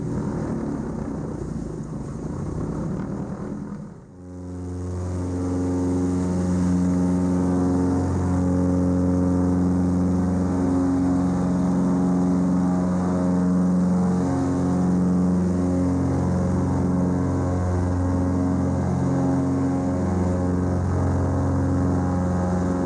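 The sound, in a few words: Britten-Norman BN-2 Islander twin-engine aircraft engines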